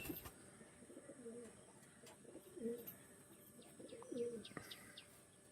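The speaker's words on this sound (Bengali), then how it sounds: "একদম ডিপ বেগুনি পাঞ্জার পায়রা" A deep purple Panjar pigeon coos softly in a few low, rolling calls at a distance, with faint chirps and light background noise in between.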